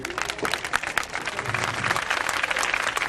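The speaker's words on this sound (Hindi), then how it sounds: "जोरदार तालियों के साथ स्वागत" An audience at a National Voter Day event in Baghpat breaks into brisk, fairly close clapping that lasts a few seconds and holds steady throughout.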